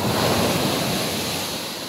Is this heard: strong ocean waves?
yes